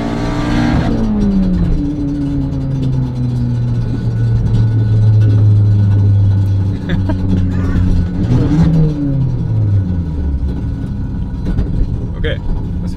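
Abarth car with its exhaust fallen off, engine revving loudly and raw, rising and falling in pitch as it accelerates, with a harsh unmuffled rasp and a voice talking faintly underneath.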